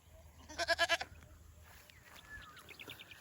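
A goat on a farm bleats in a quick burst of loud, wavering calls, followed by quieter background bird chirps and faint ambient noise.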